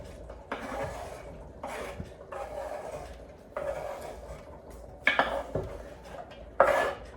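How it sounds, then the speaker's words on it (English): Chopped chestnut mushrooms tipped into a pan for a mushroom cashew nut curry, giving a few soft clattering bursts of pieces and utensil scraping against metal, with two sharper clinks near the end. "And then we add in all the chopped up mushrooms. So that goes in."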